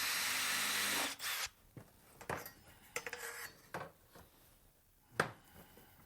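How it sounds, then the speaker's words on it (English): A power drill drives screws into wooden seat pieces in a woodworking shop: one long steady whir of the motor, then clattery handling, bumps and light taps, all fairly faint. "I'm going to go ahead and put one more set of screws in the middle just to make sure I've got good contact all the way"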